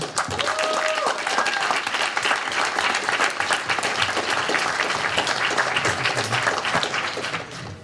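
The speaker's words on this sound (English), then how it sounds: "Can we just give him another round of applause?" Applause for Johnny from a crowd at a student election debate, sustained and dense clapping filling the room, with some voices mixed in.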